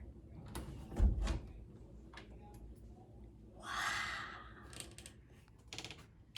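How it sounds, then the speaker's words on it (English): The door of a walk-in pantry in a double-wide mobile home is opened, with soft handling clicks and a brief sliding swoosh, quiet and close in a calm room. "let's open the door"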